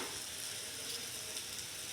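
Chopped onions and tomatoes sauté in a pan for sarson da saag, a soft, even sizzle heard close up with no voices.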